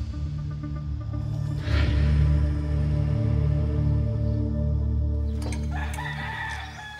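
A fighting rooster crows loudly and close at a cockfighting venue in the Canary Islands, one long drawn-out crow over a steady low hum of the hall, followed by clucking and scuffling.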